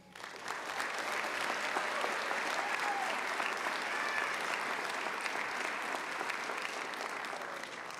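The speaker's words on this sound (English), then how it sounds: "Please join in another round of applause for the 2026 Ivy Day Awards recipients" Sustained applause from an audience at the Ivy Day awards ceremony, steady and full for about eight seconds after a quick swell, with no talking over it.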